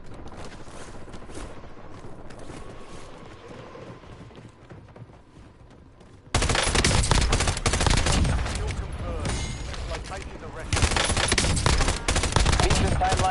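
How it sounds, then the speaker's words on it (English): Gunfire in the Call of Duty Warzone video game, rapid automatic bursts that begin quietly and distant, then erupt into loud, dense, sustained firing that intensifies again near the end. "Taking effective fire!"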